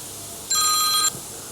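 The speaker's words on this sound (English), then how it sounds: "and now the phone's ringing." A telephone rings once, a short bright electronic trill lasting about half a second, close and clear against a quiet room.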